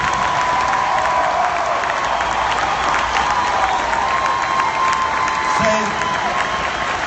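A homecoming event crowd claps and cheers together, a loud, dense wash of applause that holds steady throughout, with voices shouting within it.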